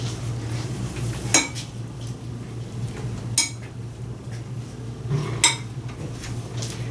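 Fruit salad with strawberries and chunky bananas is stirred in a bowl, three sharp spoon clinks against the bowl spaced about two seconds apart over a low steady background hum.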